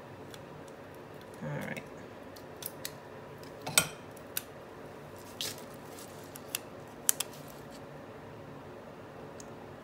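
Scissors snip through a paper pumpkin sticker sized for a big Happy Planner, giving a few crisp cuts and light paper rustles at close range, with a brief spoken remark.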